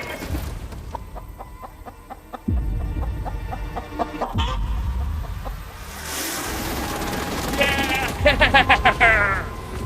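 Chicken clucking in short bursts near the end, just after being caught on an island, mixed with rustling, handling noise and louder background activity.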